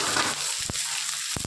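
Chopped onions fry in a pan of oil with whole garam masala spices (cardamom, cinnamon, cloves) for a chicken curry, giving a steady close sizzle broken by two short scraping stirs.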